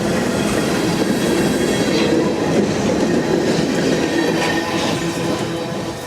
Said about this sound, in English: here comes the tail end of our train. The CSX M512 heading north through Madisonville, Kentucky